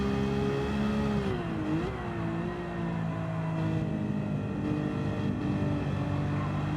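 Race car engine in Gran Turismo 7 at the start of a race at Deep Forest Raceway, droning steadily and loudly, with pitch sweeps as it accelerates away and a continuous engine tone throughout.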